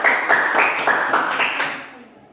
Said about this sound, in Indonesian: Baik, tepuk tangan untuk kelompok 3.